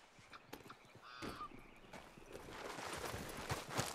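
Horse walking in Red Dead Redemption 2, with soft clip-clop hoof steps repeating steadily over an outdoor game ambience, including a brief whinny-like call, growing louder toward the end with no talk.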